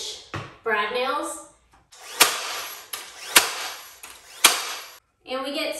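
A brad nailer drives 1.25 inch brad nails into wooden cleats glued for a DIY dresser, firing three sharp, loud pneumatic snaps about a second apart, with a voice talking just before and after.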